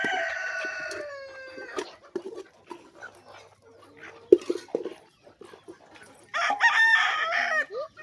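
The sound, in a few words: free-range desi chickens, rooster crowing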